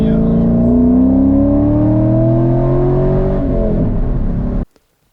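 An XCool handheld cordless car vacuum runs with a loud, steady motor whine whose pitch slowly climbs, holding close and strong for several seconds before cutting off abruptly.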